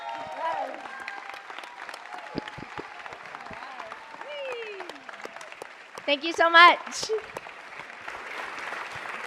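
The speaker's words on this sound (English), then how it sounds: "Let's give another round of applause" A burst of audience clapping at a city council meeting swells briefly midway, with a person speaking a short thanks and other voices talking around it.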